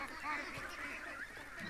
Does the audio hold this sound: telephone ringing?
no